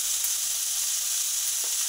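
Vegetables frying in a pan, a steady close hiss of sizzling oil with a faint stir sound near the end and no voices.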